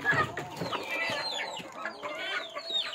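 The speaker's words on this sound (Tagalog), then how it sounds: "Yung mga hindi makahintay na manok pumupunta dito" Hungry pet farm chickens clucking at feeding time, a busy overlapping chorus of close, rapid clucks and squawks that continues without pause.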